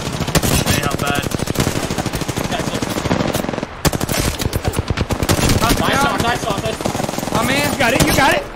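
Dense automatic gunfire in the Apex Legends video game rattles loud and continuous in rapid bursts, with a brief gap partway through and voices talking underneath.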